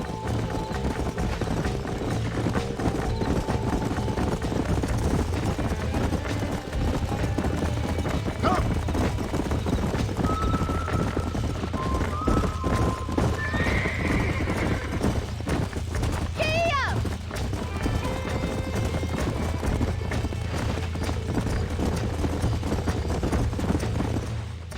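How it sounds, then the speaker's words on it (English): Horse hooves in Red Dead Redemption clip-clop at a steady run with a horse whinnying partway through, over a constant rumbling background and faint voices. "These are fine horses."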